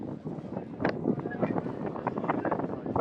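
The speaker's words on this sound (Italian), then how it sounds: "il vento si fa sentire qui a Geraci Siculo" Gusty wind buffets the microphone at an outdoor football match in Geraci Siculo, a steady rumbling roar throughout with brief louder gusts, while faint speech murmurs underneath.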